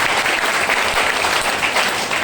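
An audience at a motivational business talk breaks into loud, sustained applause, a dense wash of clapping from many hands that continues evenly from start to finish.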